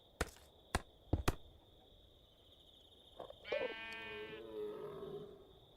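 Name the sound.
sheep bleating in the video game Minecraft RLCraft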